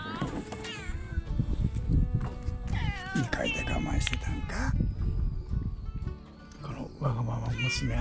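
Cats indoors meow repeatedly, with several drawn-out, wavering calls close by, mixed with a voice and household noise.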